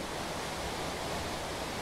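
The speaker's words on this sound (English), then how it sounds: "A beautiful waterfall," Water pours over SummerHill Force, a waterfall running with lower flow than usual. It makes a steady, unbroken rushing roar at moderate loudness, with no voices.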